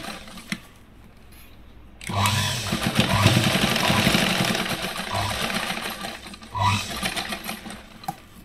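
Electric sewing machine stitching tucks on a katori blouse, a close, loud burst of rapid mechanical stitching that runs several seconds, pauses briefly and starts again.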